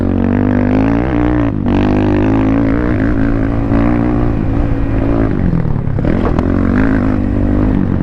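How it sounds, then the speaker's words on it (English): Thumpstar pit bike engine droning loud and close at a dirt bike track, a steady buzzing roar that rises and falls as the throttle changes, with no talk over it. "the Thumpstar, it feels like a big pit bike"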